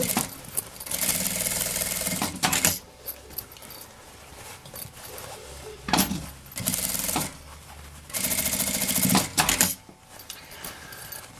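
A sewing machine stitches a seam on a fabric travel vanity case, running in several short bursts of a second or two separated by pauses with small handling clicks and knocks nearby.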